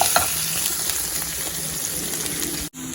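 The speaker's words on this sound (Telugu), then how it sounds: "పసుపు, అల్లం వెల్లుల్లి పేస్ట్ బాగా ఫ్రై అవ్వాలి" Turmeric and ginger garlic paste frying in a pan for ragi millet noodles, a continuous close sizzle with stirring scrapes that cuts off abruptly near the end.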